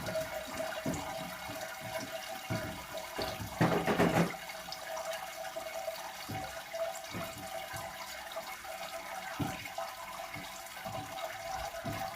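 Water draining through a Grainfather all-in-one brewing system, a steady wash of running and trickling liquid that continues throughout, with one louder gush of flow partway in.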